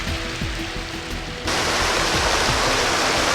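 A river rushing past at close range, a steady broadband roar of flowing water that grows louder and fuller partway through, with no voices.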